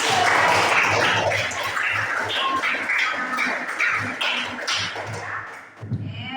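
Schoolchildren in an elementary classroom clap together, a loose burst of applause that fades into scattered claps, with some room noise and voices toward the end.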